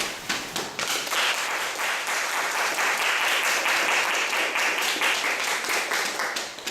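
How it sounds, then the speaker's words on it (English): Steady audience applause welcoming speakers at a talk on ending street harassment, dense hand clapping that swells quickly and holds for several seconds, close and loud, with little talk. "Let's please welcome them with a big round of applause."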